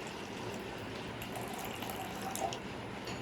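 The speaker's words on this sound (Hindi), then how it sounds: "इसमें मैं क्या कर दूंगा, इसमें थोड़ा सा पानी डाल रहा हूँ मैं दोनों जार में।" Water pours steadily into two jars during a home-care product demonstration, a soft continuous trickle close by with no voices.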